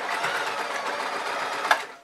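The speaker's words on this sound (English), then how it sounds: "Now I'm going to sew to my pin." A sewing machine stitches a fabric shoulder band on an elastic formal top, giving a fast, continuous, close whirring run with a small click near the end and no voices.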